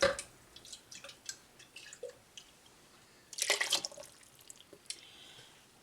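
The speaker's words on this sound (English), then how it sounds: "Just a little water to rinse it out." Water splashes and trickles briefly into a large salsa jar to rinse it out, a short pouring burst amid quiet drips and small clinks.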